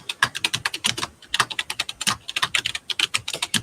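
Rapid typing on a computer keyboard, close and moderately loud, with dense bursts of key clicks broken by a couple of brief pauses and no talk.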